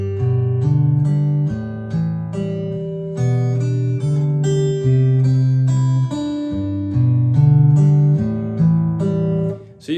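Guitar plays plucked low bass notes together with a higher ringing melody, steady rhythm, close and clear, no voices.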